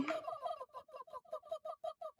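Cartoon chickens in a Godot video game give a run of quick, evenly spaced clucking calls, about a dozen short bursts in rhythm, clear and isolated with no voices over them.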